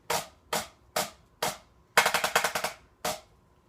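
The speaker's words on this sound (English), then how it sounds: "the rim shots sound the same as a rim" Sharp rim shots struck on a Xymox Reserve Corps snare practice pad: four evenly spaced single cracks, then a quick roll of about eight rapid hits, then one more crack, close and clear with no talking.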